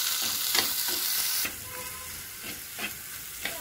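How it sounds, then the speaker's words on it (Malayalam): Onions sautéing in a pan for a Kerala anchovy (netholi) fry, a steady sizzle with intermittent scraping stirs, louder in the first half then settling to a softer fry. "ഇനി ഇത് ഈ സവാള നല്ലതായിട്ട് വഴറ്റിയെടുക്കണം."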